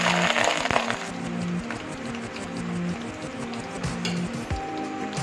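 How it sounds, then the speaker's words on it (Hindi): Chopped onions go into five tablespoons of hot oil while cooking mutton lauki gosht, giving a steady, dense sizzle with crackling pops that runs throughout at close range, with no talking. "ऑयल हमने 5 टेबल स्पून लिया है और अब अच्छे से हीट भी हो चुका है। अब हम इसमें प्याज डाल देंगे।"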